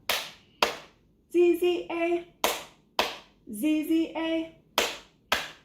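Hand clapping keeps time with a chanted children's food rhyme about a pepperoni pizza at an early literacy class: two sharp claps open each line, then a voice chants, and the pattern repeats clearly and close.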